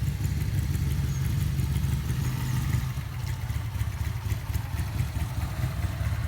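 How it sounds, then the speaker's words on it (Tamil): A motorcycle engine with twin silencers idles steadily nearby with a deep, even rumble and faint clatter, holding a constant level throughout with no voices. "ரெண்டு சைலன்சரும் வந்துட்டு மிக பிரம்மாண்டமான அளவில் சத்தம் போடும்."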